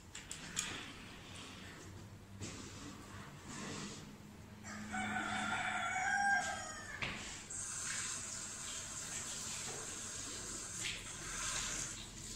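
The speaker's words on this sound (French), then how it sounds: "Ce coq," A rooster crows once in the middle at moderate distance, a drawn-out call over a faint background hiss and some light clatter, with no talking.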